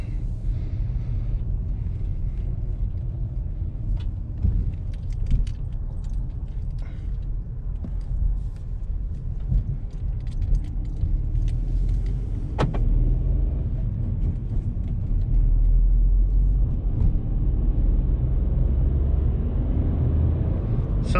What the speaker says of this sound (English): Sounds a little bit like a diesel, but it's just a raw three-cylinder sound.